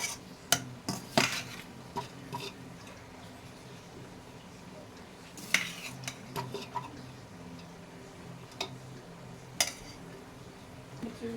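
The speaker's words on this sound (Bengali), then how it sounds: "আবারও আমি এর উপরে ভাত অ্যাড করে দেব।" Cooked rice is layered over chicken biryani in a cooking pot, quiet scattered clinks and taps of a spoon against the metal pot, with a few sharper knocks, mostly alone at low volume.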